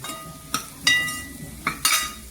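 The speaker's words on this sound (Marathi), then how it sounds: "व्यवस्थित मिक्स झाल्यानंतर" A utensil stirs chopped bitter gourd (karela) bhaji in a pan, giving four sharp clinks and scrapes at uneven intervals over a faint, steady sizzle, close and clear.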